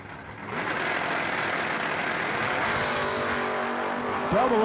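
Door cars, including an El Camino, in a drag race launch and run down the strip: loud sustained engine roar from several cars, with rising whines and shifts near the end.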